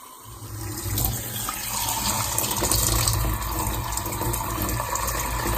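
Water runs steadily from a bathroom tap during a flow test of about 4 litres a minute after a new boiler installation, a continuous rushing hiss that stays close and loud throughout with no talking.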